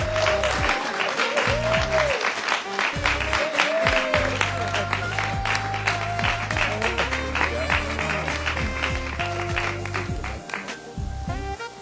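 Audience at an awards ceremony in Springfield, Massachusetts applauding steadily and loudly for an honoree for about twelve seconds, with dense clapping over music and a few voices mixed into the crowd noise.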